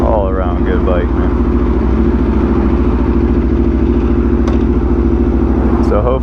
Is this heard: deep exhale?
no